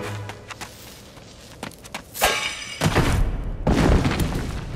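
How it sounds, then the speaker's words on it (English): An explosion in the Puss In Boots Wii video game, heard as loud, noisy crashing bursts with shattering debris. The bursts grow in the second half of the clip and there is no talk. "I had escaped the danger of the explosion."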